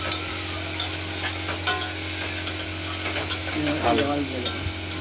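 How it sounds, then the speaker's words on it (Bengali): Bottle gourd with salt is stirred in hot oil, a loud steady sizzle with repeated spatula scrapes against the pan, heard close up and alone without talking. "এরপর একটু নাড়াচাড়া করব তেলের মধ্যে।"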